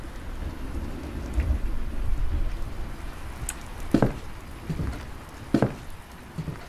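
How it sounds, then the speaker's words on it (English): Steady rain pours through a horror video game, with several deep thunder rumbles and sharp cracks breaking in at intervals over the hiss, no voices present. "It has to be raining out, or it's not a real horror game."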